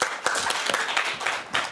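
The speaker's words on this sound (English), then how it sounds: "A round of applause for the presentation." An audience at an academic quality-assurance conference applauds a presentation, with a moderate crowd clapping steadily and a few sharper claps standing out close by.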